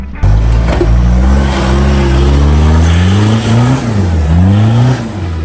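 An Isuzu D-Max four-wheel-drive ute engine revs hard and climbs, the pitch rising and dipping as it labours up a steep track, loud and close throughout.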